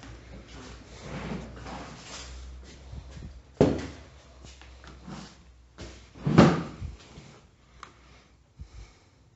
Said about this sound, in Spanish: me cambio de silla.